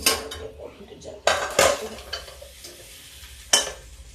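A metal kadai holding spicy cabbage and peas sabzi is lifted off the stove with loud close clanks and scraping, then a short rattle and a final sharp metallic knock.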